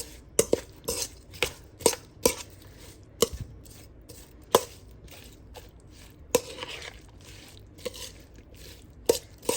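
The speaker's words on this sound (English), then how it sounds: "So let's mix all this up. Get this all nice and mixed." Seasoned beef stirred together with chipotle peppers in adobo sauce for pressure canning, giving a series of sharp scraping knocks and clatters of a utensil against the bowl at an uneven pace, with quiet moist sounds between them.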